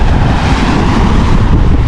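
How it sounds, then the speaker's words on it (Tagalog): Strong wind roars across a microphone on a boat at sea during tuna fishing, a loud, continuous rumbling rush with no break. "Lalo lumakas ang hangin"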